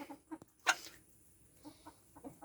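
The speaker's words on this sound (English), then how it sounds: "Rooster, you're getting more than your fair share." Backyard chickens and a rooster eating black soldier fly larvae, giving soft, close clucks in short scattered bursts with one louder squawk, and no talking.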